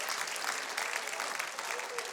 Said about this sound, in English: Don't applaud anymore, I don't have enough time.